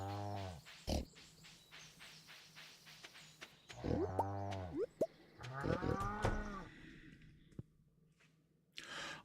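Cows mooing on a farm in the Stardew Valley video game, three or four separate drawn-out moos spaced apart, with small clicks and quiet gaps between.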